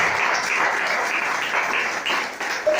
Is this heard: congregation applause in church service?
yes